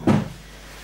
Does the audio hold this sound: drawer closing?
yes